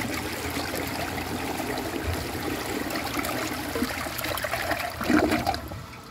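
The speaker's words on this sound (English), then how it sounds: "So let's see how it flushes." A 1992 Eljer Preserver toilet flushes in one steady, loud rush of water that holds for about five seconds, with a brief surge near the end before it starts to fade.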